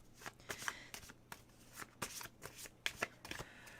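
Tarot deck being shuffled by hand, soft quiet riffles and card slaps in an irregular burst pattern, close and alone with no talk.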